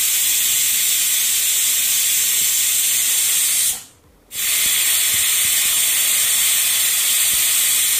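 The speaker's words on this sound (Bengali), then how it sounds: "এখানে দেখুন বন্ধুরা 2টো সিটি উঠে গেছে" Steam hisses loudly and continuously from a pressure cooker whistle in a home kitchen, cutting out for a moment partway through before resuming.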